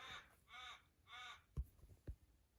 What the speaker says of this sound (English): Clearly the crow has something else to say besides me showing these off.